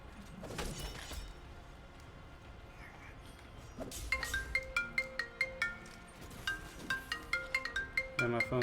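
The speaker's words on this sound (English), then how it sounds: "And my phone's ringing." A phone ringtone plays during a Hellpoint gaming session, a repeating bright melodic chime in short rhythmic bursts that enters midway, loud and clear over quieter game sounds.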